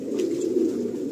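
Pigeons in a loft give a soft, continuous low coo, close and steady with no break, and nobody speaks.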